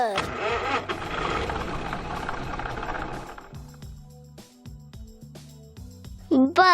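A tractor engine cranks and catches, then settles into a steady running rumble broken by intermittent mechanical clunks, with a brief louder burst at the end.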